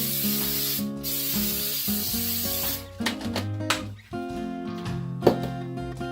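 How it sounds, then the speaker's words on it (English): Cooking spray hisses onto baking pans in a few short bursts, a bright airy spray heard up close amid faint background music. "Now you're going to spray your pans down with some cooking spray."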